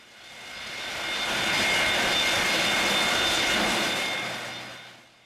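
A roaring jet engine on a 40-year-old Boeing 737-200 airliner, a loud steady broadband roar with a whining tone that swells, holds, then fades over a few seconds.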